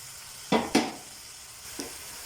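Onion frying with minced meat in a pan makes a low steady sizzle, with two sharp stirring scrapes near the start and a softer one later, and no voices.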